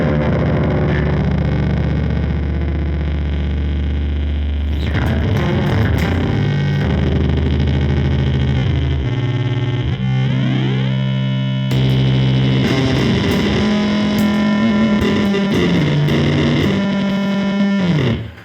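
Guitar played through a Donner Mod Square II modulation pedal in lo-fi mode, with level and depth turned all the way up: dense, noisy, distorted tones with warbling, sweeping pitch, loud and continuous, ending with an abrupt cut.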